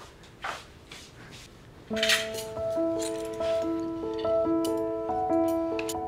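Plates and dishes clinking as a plate is fetched in a home kitchen: a few light, brief clinks, followed by soft music playing underneath.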